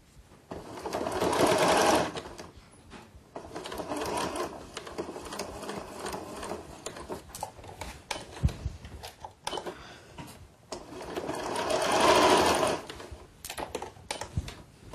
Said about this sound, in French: Ensuite, on fait un rentré de 1 cm à chaque bout, que l'on fixe rapidement à la machine à coudre.